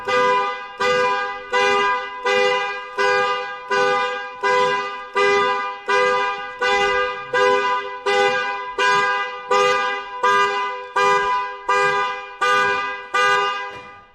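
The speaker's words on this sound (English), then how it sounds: "it just honks the horn just the same way as when you push the panic button" The car alarm of a 2007 Lincoln Town Car blares the horn in a steady repeating pattern, about a dozen loud evenly spaced honks, close by with no talking.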